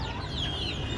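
Backyard chickens cluck softly in a brief, faint burst of fowl calls around their coop.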